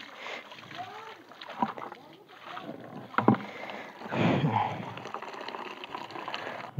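Water splashes over a motorbike during a wash, irregular close sloshing and spattering with brief sharper splashes, a voice faintly present beneath.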